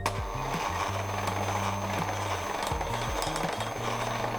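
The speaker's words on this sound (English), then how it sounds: "again keep your mixer on low" An electric mixer runs on low speed through pumpkin cake batter, a steady close motor whir with shifting low hum as the beaters churn, no talking.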